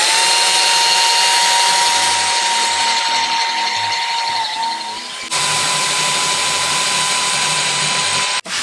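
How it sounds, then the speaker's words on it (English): Drill fitted with a hole saw bores a lock hole in a door, a loud close steady whine with a faint shift midway as pressure changes, and a brief clatter at the end, with no one talking. "we're just going to drill this one kind of by hand in the middle"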